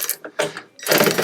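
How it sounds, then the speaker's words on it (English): A ratchet clicks in quick bursts while tightening bolts on black tubular side steps fitted to a Land Rover Defender, close and loud with short pauses between strokes. "Then we're going to do up our bolts"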